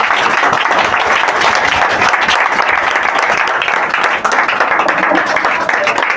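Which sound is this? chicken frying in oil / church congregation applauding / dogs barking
church congregation applauding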